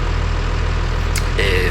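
A tractor engine runs steadily while driving a slurry mixer through its PTO, a loud, even low-pitched thrum that persists throughout, with a brief higher whine toward the end.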